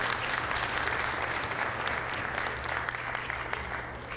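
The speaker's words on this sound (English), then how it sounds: "a big round of applause for Mr." Audience applause at the SACC Annual Gala 2015, a steady roomful of clapping that stays dense and fairly loud for the whole stretch with a low hum beneath and no voices on top.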